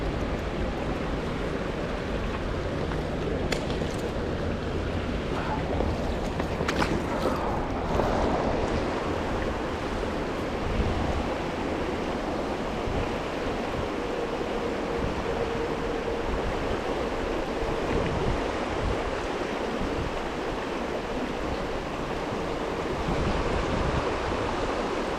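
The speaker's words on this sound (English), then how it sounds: "this is an awesome little stream" A small mountain creek with a hint of limestone tumbles over pocket water in a constant broadband rush, steady and close, with some wind noise on the microphone and no talk.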